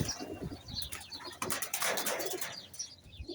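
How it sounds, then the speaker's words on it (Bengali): A pigeon coos softly nearby, with low murmuring calls and a brief flutter of wings, heard alone. "এই ভিতর দিকে একটা কবুতর বসে রয়েছে"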